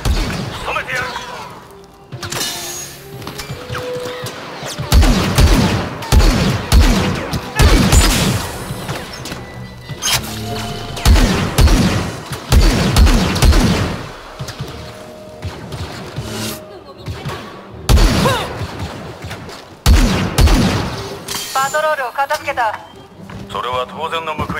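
Blaster fire and explosions in a battle from the video game Star Wars Battlefront 2, with loud repeated bursts and crashing impacts over a music score, while voices shout and talk throughout.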